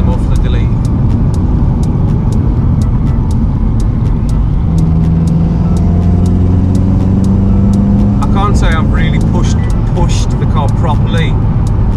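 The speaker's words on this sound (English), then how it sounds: "I really hope you can hear the turbo muffler." Loud, constant engine and exhaust drone heard from inside a turbocharged VW Mk7.5 Golf GTI Performance with a muffler delete, with a rising turbo whine as it accelerates and someone talking over it.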